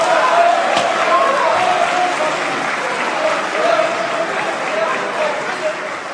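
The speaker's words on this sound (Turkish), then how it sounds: "Alkışlayın." Applause in the Turkish parliament, a dense, sustained clatter of many hands filling the chamber, with voices faintly mixed underneath.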